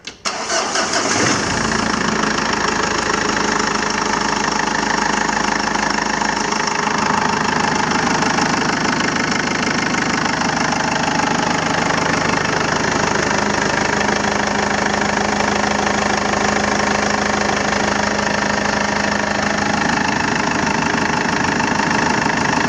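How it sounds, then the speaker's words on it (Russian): A 2007 Mazda BT-50 2.5-litre turbodiesel engine, WLAT, idles steadily after starting, a loud, continuous diesel clatter with a low rumble that holds even throughout. "Работа двигателя на холостых оборотах стабильна."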